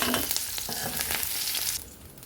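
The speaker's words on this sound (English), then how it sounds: "Fry it quickly." Diced capsicum fries quickly in hot oil for a soya chunk and potato curry, a bright, close sizzle with stirring that drops off suddenly near the end, no speech.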